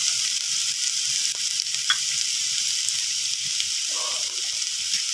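Ground masala paste fries in oil for a banana flower poriyal, giving a steady loud sizzle throughout, with a few soft stirring scrapes near the end.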